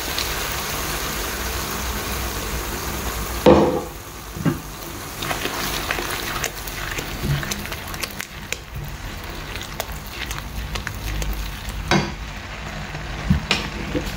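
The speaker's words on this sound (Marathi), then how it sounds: "आतां हांव पेस्ट हितून घालता" Masala paste with Kashmiri chili goes into a pan of frying onions, setting off a sudden loud sizzle that settles into a steady, close crackle of frying with no talking.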